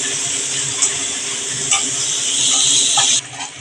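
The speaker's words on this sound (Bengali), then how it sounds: "আমি 2 বড় সাইজের পেঁয়াজ কুচানো দিয়ে দিচ্ছি। একটু ব্রাউন করে ভেজে নিতে হবে" Two large chopped onions frying in oil in a pan, a steady loud sizzle with a few scraping stirs close up, no talking.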